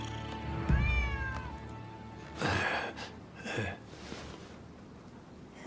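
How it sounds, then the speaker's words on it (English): A stray cat meows several times in a Rise of the Ronin game scene, close and clear, with a breathy gasp-like sound, ambient music and background noise around it. "Who'd have thought a stray cat would wander in?"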